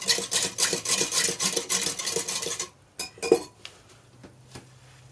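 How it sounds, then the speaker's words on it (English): A whisk beats liquid in a bowl for a crock pot German dish, fast rhythmic clinking strokes up close, followed by a few sparse taps and scrapes. "I'm going to go ahead and whisk this up really well."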